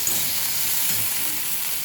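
Tomatoes and salt frying in a pan for a spicy fish dish, a dense, even sizzle filling the moment, close and steady with no voice.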